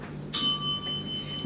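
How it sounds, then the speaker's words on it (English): A single strike of a debate timing bell during a school debate semifinal, a bright close ring with clear sustained overtones that fades slowly over about a second in a quiet room. "the bell will ring like this"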